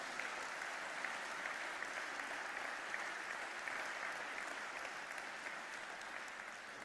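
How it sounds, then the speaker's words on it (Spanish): A church congregation claps together in a dense, even wash of applause that holds steady for about seven seconds, somewhat distant and without voices rising above it. "Vamos a darle un aplauso a esta palabra."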